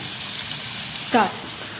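Chicken sautéing in a frying pan gives off a steady close hiss of sizzling, with a brief voice cutting in for a moment.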